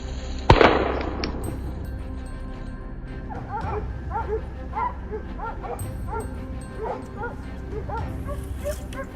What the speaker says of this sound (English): Amid the reeds, the barking of hunting dogs signaled the presence of a wild boar.